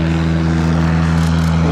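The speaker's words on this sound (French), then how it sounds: "les 3 Piper, les PA-18, sont des avions dont le dessin original date de la fin des années 20" Three Piper PA-18 propeller airplanes, a design dating from the late 1920s, fly at the Biscarrosse air show, their engines producing a steady, continuous drone with strong low harmonics that stays loud and unbroken throughout.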